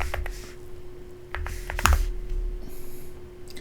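Irregular clicks and taps of typing on a computer keyboard, moderately close, with uneven bursts and a faint electrical hum underneath while configuring a GL.iNet router; no speech.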